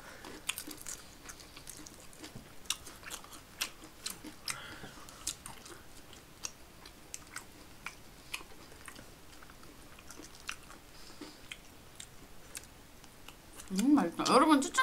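Someone eats Ttobongi fried chicken up close, with a steady run of wet, crisp chewing clicks and small bites spread evenly over several seconds. A brief burst of talking comes near the end.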